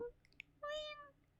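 A person's voice imitates a cat meow, one drawn-out, rising-then-falling mew heard close and clear over faint background hum.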